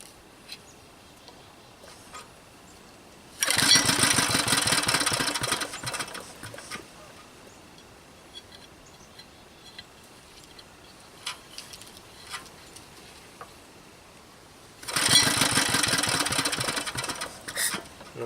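A Briggs & Stratton small engine on a David Bradley machine, flooded and leaking gas, catches and runs roughly for about three seconds, dies, then fires again near the end, loud and close against a quiet background.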